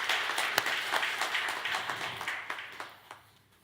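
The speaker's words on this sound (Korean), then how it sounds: "우리 하나님께 큰 영광의 박수 한번 드리겠습니다" A church congregation at a Sunday worship service applauds after the choir's hymn, a warm sustained round of many hands clapping that gradually tapers off at the end.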